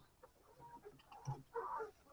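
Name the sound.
chickens clucking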